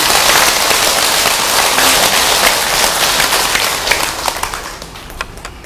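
Audience applause at a Buddhist temple Dharma talk for the Baekjung Jijang prayer and pre-death ritual ceremony, dense sustained clapping from a crowd that thins and trails off into scattered claps.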